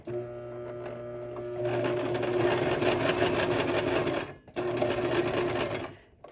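A sewing machine starts with a low hum, then runs in a steady rapid stitching buzz while sewing darts along dotted lines on fabric, pausing briefly before resuming and stopping.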